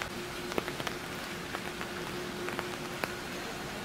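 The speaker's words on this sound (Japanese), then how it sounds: "雨なのが残念。" Rain falling outdoors along a scenic walking path in Kyushu, Japan, a steady hiss of drops with scattered sharper patters nearby and a faint low hum underneath.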